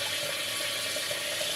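Water flows steadily and continuously through an overflow balance tank, a dense close rush without a break.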